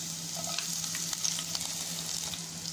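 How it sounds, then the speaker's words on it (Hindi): Ginger, garlic and chili frying in hot oil for vegetable noodles, a steady dense sizzle with faint stirring scrapes, close and continuous throughout. "जैसे ही ऑयल गर्म हो जाए हम इसमें ऐड करेंगे जिंजर और गार्लिक"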